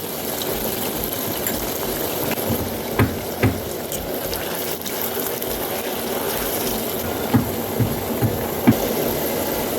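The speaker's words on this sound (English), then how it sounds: "Can you hear that sound of frying potatoes?" Potato chips sizzle steadily in hot oil, a dense continuous hiss with occasional sharp pops and crackles.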